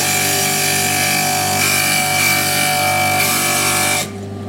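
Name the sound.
grinding stained glass edge on a glass grinder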